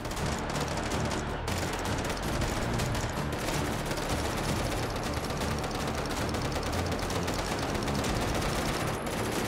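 Sustained, dense gunfire fills a Hot Dogs, Horseshoes & Hand Grenades VR session, loud and continuous like a rapid fusillade with no pause.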